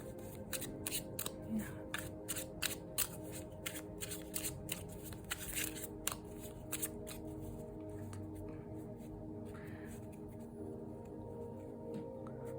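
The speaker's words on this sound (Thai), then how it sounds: "สับง่ายนะคะ" A small pocket Tarot to Go card deck being shuffled, a steady run of crisp riffling card snaps and flutters close by, quiet and repeated over several seconds with faint room noise beneath.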